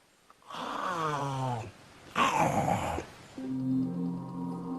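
A voice imitates an anaconda's snore-like sound while swallowing prey, with three rasping, throaty snorts separated by short pauses, the last one smoother and more drawn out.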